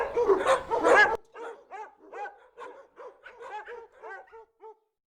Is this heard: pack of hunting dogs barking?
yes